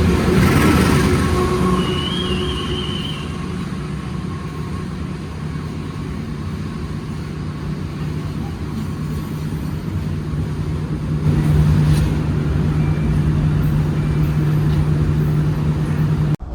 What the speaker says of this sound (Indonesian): kereta api Blambangan Express sudah berangkat dari stasiun Surabaya Gubeng